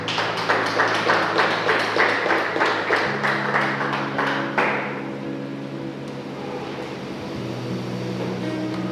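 A church congregation claps in a steady, brisk rhythm for several seconds before the clapping fades out, leaving a sustained organ-like keyboard tone underneath.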